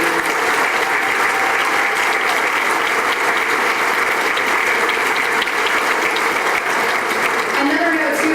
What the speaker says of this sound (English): could we just give a round of applause for everyone